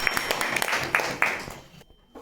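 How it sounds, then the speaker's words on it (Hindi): A small group claps together for a contestant's correct answer in a Hindi-medium class 10 maths quiz. The brisk, scattered applause lasts under two seconds and then cuts off into near silence. "ताली हो जाए।"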